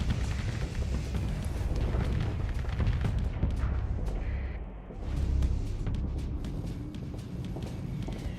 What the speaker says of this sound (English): Antimatter missiles go burr.